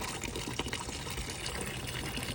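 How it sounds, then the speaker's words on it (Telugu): Continuous rush of fresh water flowing from a motor pump, steady and fairly close, with no pauses, ending abruptly. "ఇప్పుడు మోటార్ ఆన్ చేశారు కదా నీళ్ళు వస్తున్నది"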